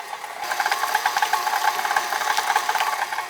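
Cupcake batter for Easter cupcakes being stirred with a spatula, a steady run of close, soft scraping and rattling strokes with no talk.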